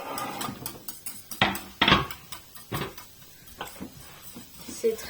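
Courgette gratin ingredients mixed in a dish: irregular clinks and scrapes of a utensil against the dish, with a few louder knocks and people talking at moments.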